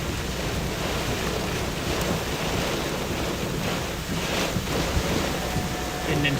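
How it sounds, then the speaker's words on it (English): Strong storm wind, about 60-70 mph, buffeting steadily as a dense, continuous roaring rush with rumbling microphone buffeting, loud and unbroken throughout. "this is a good, probably 60, 70 mile per hour wind here"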